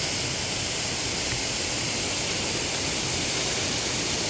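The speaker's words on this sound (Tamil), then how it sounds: "இப்போ தண்ணி திறந்து விட்டுக்கலாம்." Water rushing into a Thames lock on the Wey and Godalming Navigation as the sluices open, a steady, loud broadband roar of churning flow that holds evenly throughout with no voices.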